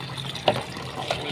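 Crabs (katam) are briefly rinsed in water, a short close sloshing and splashing with a couple of small clacks.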